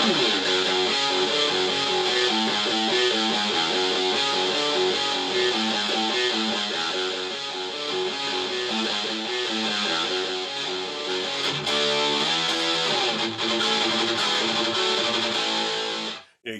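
Loud, dense distorted electric guitar playing heavy riffs continuously on a 1992 Jackson Randy Rhoads Professional, with a sudden drop in level at the very end.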